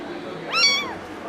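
An abandoned kitten gives a single clear, rising-then-falling meow, fairly close against a quiet background, with no one speaking.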